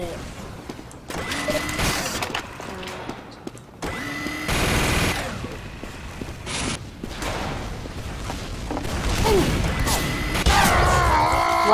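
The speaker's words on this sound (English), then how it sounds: "Why did you start shooting" Gunfire in Team Fortress 2, including the Heavy opening fire, comes as loud, harsh bursts separated by short gaps, with game noise and a voice chatting over it.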